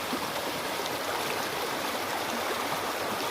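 A river swollen after Typhoon Kristine rushes past in a steady, loud, continuous wash of water with no pauses, close by and filling the whole scene.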